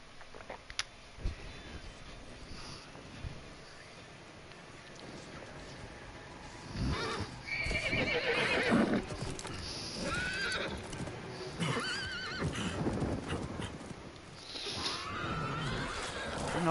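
A horse neighs and whinnies several times amid hoof clip-clops and game-like background ambience in Diablo 4, fairly loud and close.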